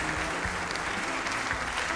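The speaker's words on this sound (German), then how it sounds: "Vielen Dank für den bärigen Applaus, liebe Zuschauer" An audience applauds a magician at a magic slam show, loud continuous clapping filling the hall, with faint voices mixed in beneath.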